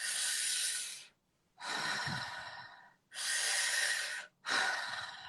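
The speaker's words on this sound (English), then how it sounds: "you breathe in like a straw" Sharp breathing through pursed lips like sucking through a straw, in four long, hissing breaths separated by short pauses, close and fairly loud with no talking.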